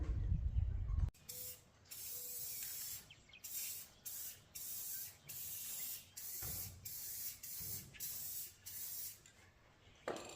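A spray gun coats the underside of a steel trailer BBQ smoker in a shop, with repeated steady hissing bursts of a few seconds each separated by short pauses, close and alone.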